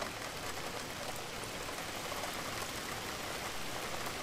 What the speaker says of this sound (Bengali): বাইরে অনবরত বৃষ্টি হয়েই চলেছে।